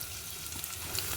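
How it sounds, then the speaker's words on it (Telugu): Ginger garlic paste fries in a pan with a soft, steady sizzle and light crackle, quiet and close, with no talking. "అల్లం వెల్లిపాయ పేస్టు వేగింది ఫ్రెండ్స్."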